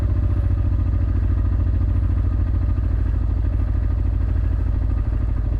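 Motorcycle engine idling as the idle speed is turned down, a steady, loud, close low throb with an even rapid pulse that holds without a break, no talk.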